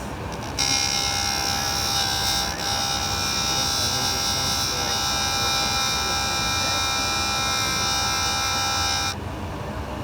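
An emerald being polished on a Jooltool, the motor holding a steady, loud electric buzz for about eight and a half seconds before cutting off, with no talk over it.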